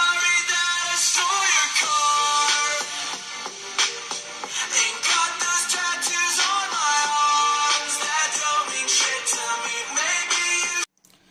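Music plays loudly from the stereo Dolby Atmos dual speakers of a Realme 9 Pro Plus smartphone, a full, continuous melodic sample that stops abruptly at the end.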